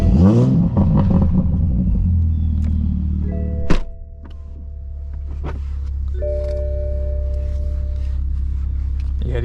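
A modified fifth-generation Toyota Supra with a turbo revs hard near the start, its loud engine roar sweeping up and down, then a sharp thunk and a steady lower idle with faint electronic tones and some background talk.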